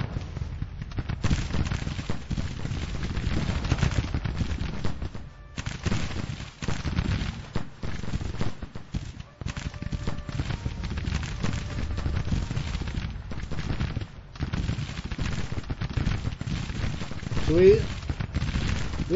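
Massed gunfire from an exchange of fire in a Grand Tactician Civil War battle, a dense, continuous crackle of musketry with scattered heavier reports, and a voice talking over it.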